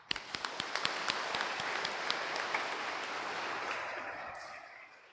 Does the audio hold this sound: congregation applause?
yes